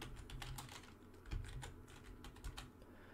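Quiet typing on a computer keyboard while entering a search, with irregular soft key clicks over a low background hum and no voices.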